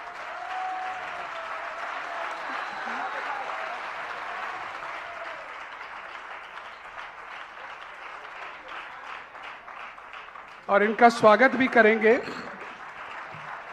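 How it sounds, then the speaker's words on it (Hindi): Applause breaks out for girls who drew sketches at a Jain religious discourse gathering, a short burst of clapping near the end after a long stretch of someone speaking Hindi over a microphone. "बेटियां प्रसन्न नहीं हो रही, उनकी तालियां कम नजर आ रही हैं"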